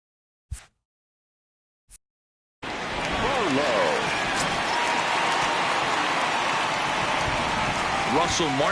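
Heavy rain pours steadily over a ballpark in MLB The Show 19, a dense continuous wash that starts after a couple of brief knocks and runs loud to the end, with faint crowd noise and a broadcast voice mixed underneath.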